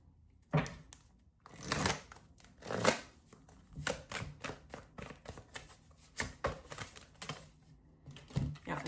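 Tarot cards being shuffled in uneven, choppy bursts, crisp papery riffles and taps arriving in irregular clusters at close range with no talking.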